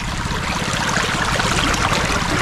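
Strong flood current pushing past a fish corral (baklad), a loud, continuous rushing of water that stays steady throughout with no voices.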